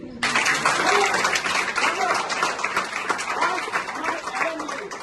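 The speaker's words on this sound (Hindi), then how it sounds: "इस बार पे एक बात तालियां तो बनती है" Applause from the audience of a student theatre production, the comedy Family Busigness. A full, steady burst of clapping starts sharply and carries on without a break for about five seconds.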